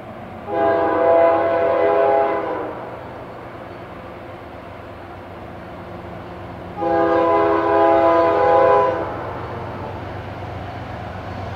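A freight train rolls past with a steady rumble of boxcars while its horn sounds in two long, loud chord blasts several seconds apart.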